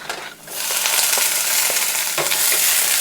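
Onion hits a hot pan already frying chili strips, setting off a loud, steady sizzle that swells after a brief quiet start, with occasional light stirring clicks underneath.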